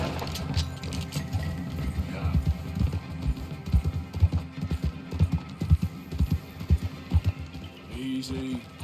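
A horse's hooves clip-clop in a quick, rhythmic gallop in the video game Red Dead Redemption 2, the steady beats growing louder toward the middle before easing, with faint background game ambience.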